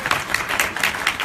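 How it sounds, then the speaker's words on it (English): A conference crowd at a 2018 event on mass incarceration gives a brief burst of applause to welcome a speaker, a rapid, even patter of many hands. "Give Johnny a hand"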